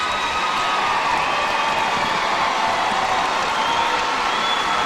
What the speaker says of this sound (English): Nice round of applause here